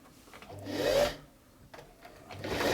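A Singer 328P sewing machine whirs in two short runs while its drive belt slips, giving a rising rubbing hum that fades and returns, close and moderately loud without speech.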